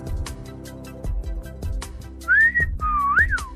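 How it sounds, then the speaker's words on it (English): Whistled melody of two rising-and-falling tones, clear and close, heard after a stretch of tapping and handling noises on a phone case. "Shout out to Android Stud for doing the whistle."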